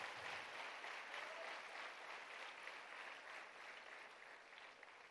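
A church congregation applauds during a worship service, the dense clapping steady and moderately distant, holding an even level throughout with no speech over it.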